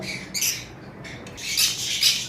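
A male green Fischer's lovebird gives several harsh, shrill squawks in quick bursts, close by over a low background hum.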